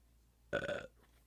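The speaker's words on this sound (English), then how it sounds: "Did not mean to just burp into that mic." A single short burp close into a microphone, loud and abrupt, lasting under half a second against quiet background.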